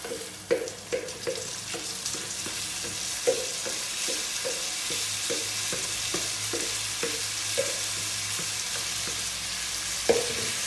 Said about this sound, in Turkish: Biraz da böyle kavurdum.